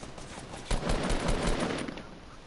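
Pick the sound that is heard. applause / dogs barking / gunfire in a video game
gunfire in a video game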